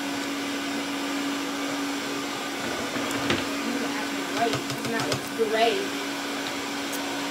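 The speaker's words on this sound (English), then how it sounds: "you can tell Charlie doesn't use a hair dryer that often" A hair dryer runs with a steady, loud whir and a constant hum, while a few faint knocks and brief rustles sound over it near the middle.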